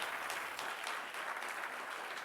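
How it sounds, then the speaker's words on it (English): Brief, faint applause from an audience for musicians at an arts event, a soft, even wash of clapping heard at a distance. "Please join me in giving them a big round of applause, everybody."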